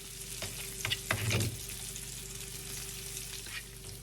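Bacon and diced onions fry in a pan with a quiet, steady sizzle, broken near the start by a brief clatter of stirring before the soft crackle carries on alone.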